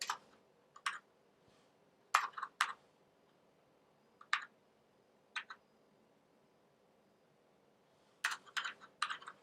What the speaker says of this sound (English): let's go ahead and type this out too.